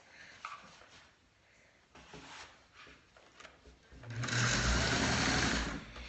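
A sewing machine stitches through a bolt of tulle for a wrap-around skirt, short bursts at first, then a louder steady run over the last two seconds.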